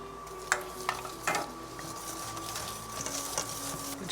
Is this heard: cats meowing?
no